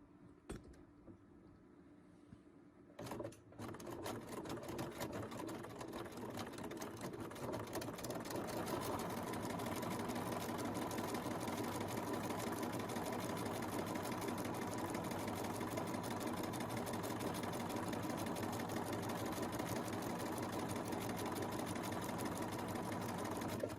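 A sewing machine runs a short run of tiny stitches, starting after a few quiet seconds and then whirring steadily and loudly with no pauses for the rest of the clip.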